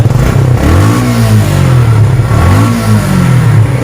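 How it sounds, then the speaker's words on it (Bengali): A loud used motorcycle engine revs up and down twice, its exhaust silencer note rising and falling in pitch, heard up close with a constant throaty rumble. "এ পাশে যে স্যালেন্সারের সাউন্ডটা আপনার শোনেন"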